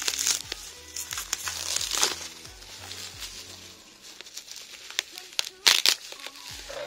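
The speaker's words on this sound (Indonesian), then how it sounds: "Jadi cuma dikasih bubble wrap aja, nggak isi dus box." Crinkly plastic bubble wrap being handled and peeled off a replica Akrapovic motorcycle exhaust, with intermittent rustles and sharp crackles close by, a louder crackle burst near the end, and faint music underneath.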